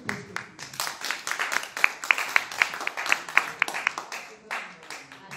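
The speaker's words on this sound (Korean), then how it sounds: "자, 그럼 모두 박수로 김영순 선생님을 모시겠습니다." Audience applause welcoming a lecturer to a Korean anti-communist education talk: dense clapping from many hands, moderately close and steady for about five seconds, with sharper individual claps standing out.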